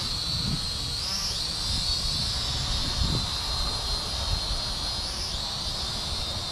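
A KAPTUR GPS II drone fighting the wind while flying gives off a continuous high-pitched whining hum whose pitch shifts slightly now and then, accompanied by low wind buffeting.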